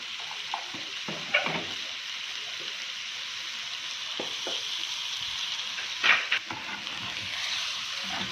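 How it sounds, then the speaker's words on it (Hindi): White chicken karahi fries in a pan with a steady sizzle, while a utensil stirs it in a few scraping strokes, close and moderately loud, with no voices. "अब इसको आहिस्ता आहिस्ता से हिलाए जाएंगे"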